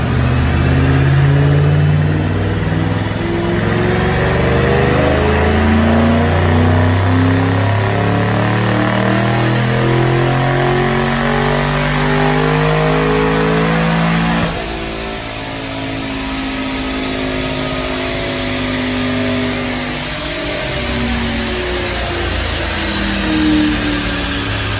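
Supercharged 2005 Ford Mustang with a Vortech supercharger and non-intercooled Brenspeed package, automatic, on 93 octane, revving hard through a dyno pull: a loud engine climbing steadily in pitch with supercharger whine, easing briefly midway, then pulling again.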